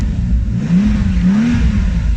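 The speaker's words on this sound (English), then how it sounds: "let me just get in and try to start the car." A Bentley Continental with a starting fault catches and idles, its engine note rising briefly in a steady, close low rumble that runs through the whole moment with no talk.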